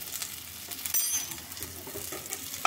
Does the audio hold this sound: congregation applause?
no